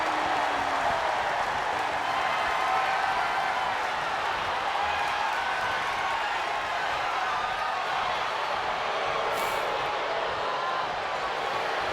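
Steady, loud roar of a rowdy wrestling arena crowd cheering and applauding during a women's championship co-main event, a dense continuous wash of voices and clapping with no pauses.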